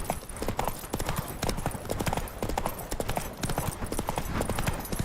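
Horse hooves clip-clopping at a steady trot in the video game The Witcher 3: Wild Hunt, a dense, even rhythm of close, loud hoofbeats continuing throughout.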